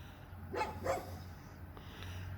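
A Kangal or Karabash guard dog barks twice in quick succession at moderate distance, over a low steady hum, then falls quiet.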